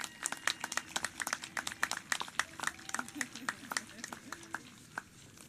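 Audience applause at a 2021 adult school graduation ceremony: dense, continuous clapping from a crowd in a hall, a little distant, tapering off toward the end.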